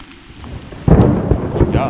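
A sudden loud crack and rumble of thunder breaks over steady rain, rolling on with broadband noise after a quiet start.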